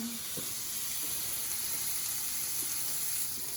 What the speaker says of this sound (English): I sear it for just a few moments on each and every surface right at first